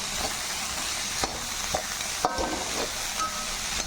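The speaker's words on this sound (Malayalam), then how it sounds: "നമുക്ക് നന്നായിട്ടൊന്ന് ഫ്രൈ ചെയ്ത് നോക്കാം. നന്നായിട്ട് ഇളക്കി കൊടുത്തോണ്ട് നല്ലോണം വാടണം" Bitter gourd and tomato fry in a pan with a constant near sizzle, while a spoon stirs and scrapes with occasional light knocks against the pan, and no one speaks.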